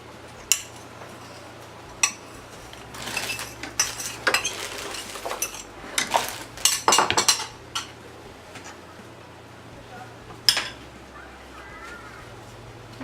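Brown sugar being mixed into coconut and butter in a pot, heard as scattered utensil scrapes and clinks against the pot, busier in the middle and then thinning out near the end, with no talk.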